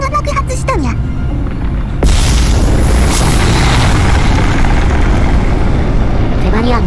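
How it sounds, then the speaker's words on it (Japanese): A planet explodes in the space strategy game Stellaris: after a brief synthetic voice, a sudden loud, sustained roaring blast fills the rest, dense and rumbling with no pause. "奴らの母星、フェバリアが爆発したんや。"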